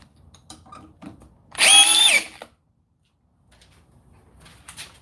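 A cordless power drill drives a big screw in one short, loud, close whirring burst that winds down and stops, followed by quiet.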